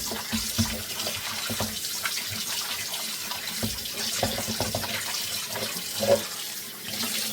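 A greasy steel pot being washed under a running tap, water splashing steadily into the sink with scrubbing and knocks of metal, close and continuous without talk.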